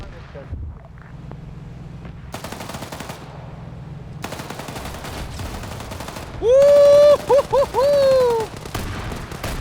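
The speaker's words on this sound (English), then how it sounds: "I just got immediately annihilated by an autocannon" Rapid bursts of autocannon fire in a military video game, with quick repeated shots in several volleys, followed by a loud whooping shout from a player.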